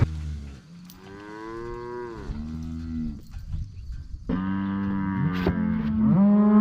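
Several cattle moo loudly and close by, long drawn-out calls overlapping one after another, with no talking.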